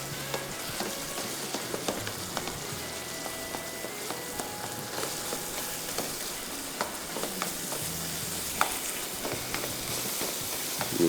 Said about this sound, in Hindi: ये मछली को तोड़ते गए, साथ साथ बस तोड़ते जाएं और मिक्स करते जाएं